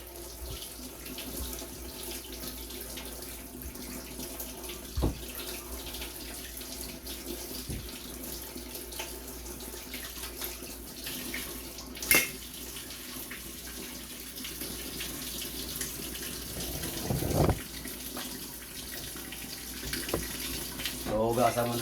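Water running steadily from a kitchen tap while an onion is washed before slicing, a continuous soft hiss with a few clinks and splashes of handling, fairly quiet.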